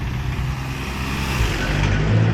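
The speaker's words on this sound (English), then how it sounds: "The old coffee van." An old coffee van's engine drones steadily close by, rumbling low as it rolls past, with traffic noise around it and no talking, on a street in Na Jomtien, Thailand.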